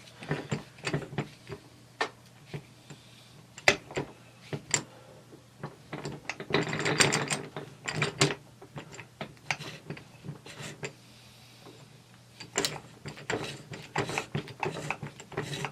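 The gears and blocker ring of a T96 transmission are turned by hand on the bench, giving close, irregular metallic clicks, ratcheting and rattles in uneven bursts with short quiet gaps.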